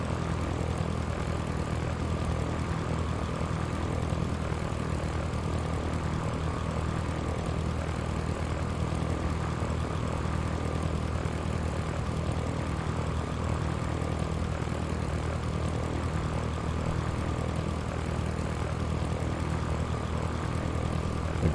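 A steady propeller drone from a Cessna in the flight simulator Sierra Pro Pilot, a continuous, even engine hum throughout with no talk.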